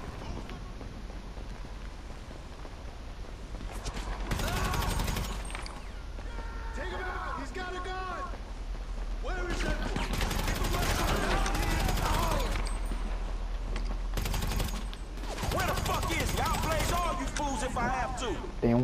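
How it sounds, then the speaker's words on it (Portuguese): Gunfire from the video game GTA 5 plays in a military equipment theft mission, with bursts of shots and mechanical clatter under someone speaking Portuguese. "Agora é tiro pra todo lado."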